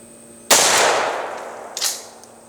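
A single loud 12 gauge shotgun blast with a defense load, fired at a target 15 feet away outdoors, rings out as a sharp crack with a long decaying echo. A fainter second report or clang follows.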